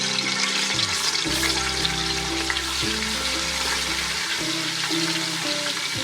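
Ginger and other ingredients go into about half a cup of hot oil for a Savour Foods style pulao kabab, giving a steady, loud frying sizzle that runs continuously with shifting tonal hum underneath.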